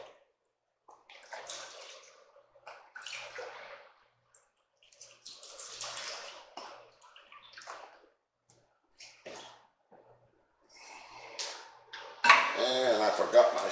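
About two and a half cups of beef broth pour into a pot with diced tomatoes for beef cacciatore, heard as intermittent close splashing and gurgling bursts that grow louder toward the end.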